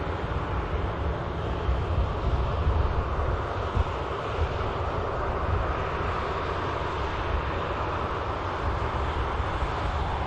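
A Ryanair airliner passes over Manchester Airport with a broad, steady engine roar, mixed with wind rumble on the microphone and holding at an even level throughout.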